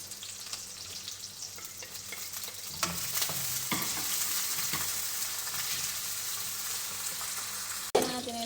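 Carrots stir-fried in a hot pan with browned onions, a continuous close sizzle broken by occasional spatula scrapes and a sharp clatter near the end.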